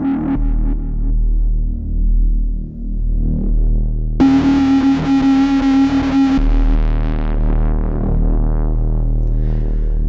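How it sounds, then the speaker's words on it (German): A Udo Audio Domino synthesizer plays heavily distorted tones with filter drive, thick buzzing bass notes that shift to a brighter, gritty sustained chord midway, loud and continuous with no talk. "Auch dieser hat sehr interessant klingende Verzerrungseffekte, die in Kombination mit dem Filterdrive zu besonders fetten Klängen und Verzerrungen führen können."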